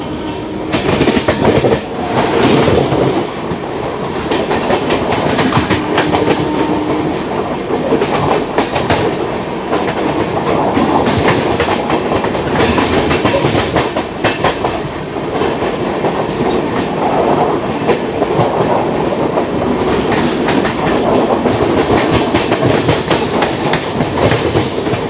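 Chennai Garib Rath express train running on the rails near Mathura Junction, a steady loud rumble with rhythmic clickety-clack of wheels over rail joints throughout, no voices.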